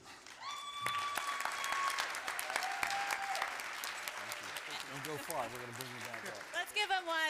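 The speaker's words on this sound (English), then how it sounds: "we're giving it a nice big round of applause" Audience clapping at a Parkinson's Resource Organization gala, a steady wash of applause throughout with whoops and other crowd noise layered on top.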